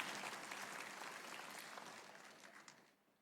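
A congregation claps enthusiastically, a thick wash of applause that gradually fades toward the end; quite faint and distant overall.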